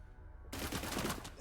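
Gunfire in the tactical video game Cyber Knights: Flashpoint, a sudden loud burst that breaks in after half a second of quiet and carries on as dense, sustained shooting to the end.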